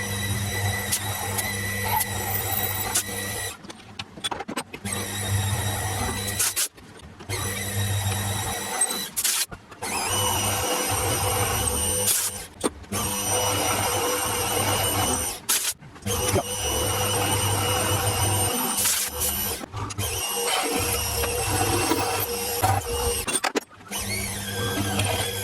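A metal-cutting machine whines steadily as a 10mm end mill recesses and drills metal for a lathe steady rest, with a droning hum that stops briefly several times before resuming.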